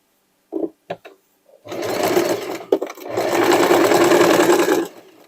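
A sewing machine stitches fabric for a dress made from sweatshirt and denim scraps: a few short clicks and brief bursts, then two long, even runs of close, rapid mechanical whirring.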